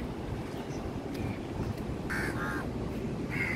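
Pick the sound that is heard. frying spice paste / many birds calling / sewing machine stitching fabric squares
many birds calling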